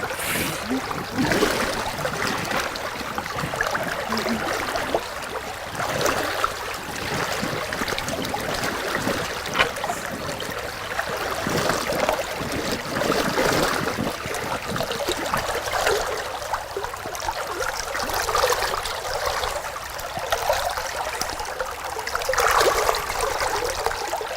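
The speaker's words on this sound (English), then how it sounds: "So this flowing water, does that help put oxygen?" A shallow rocky stream flowing continuously, with close, steady trickling and babbling that holds at moderate loudness for the whole stretch and has no clear talk over it.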